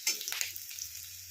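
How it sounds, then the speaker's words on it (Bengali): Green chillies sizzle steadily in a hot pan with a constant bright crackle, fairly quiet and close, with no talking. "কটা কাঁচা লঙ্কা, এটাকে আগে ভেজে নেবো"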